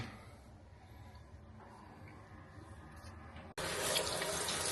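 Water trickles steadily through a pitcher-type water filter, a soft, close pour that turns into a louder, fuller rush of water toward the end.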